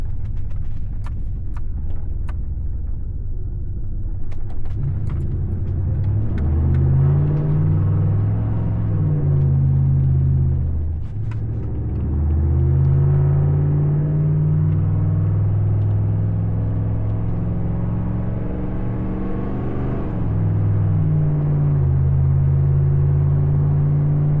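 A Dodge Ram pickup truck engine drones loudly from inside the cab, its low rumble rising and falling as it revs and pulls through gear changes.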